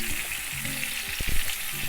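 Floured monkfish pieces frying in hot oil in a pan, a steady close sizzle with a few sharper crackles and pops, with no talking.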